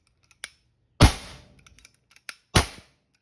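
Westhunter air gun fired twice after a leak test, two sharp close pops each with a brief hissing tail, separated by small clicks and handling noises.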